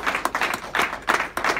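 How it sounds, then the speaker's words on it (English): A small audience gives a short round of clapping in uneven bursts, moderately loud and close, lasting under two seconds. "Let's give him one more round of applause"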